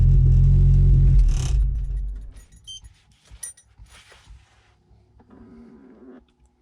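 An Audi A4 B7 engine idles with a loud low rumble that stops after about two seconds, leaving quiet with faint clicks, light handling noises and a soft hum near the end.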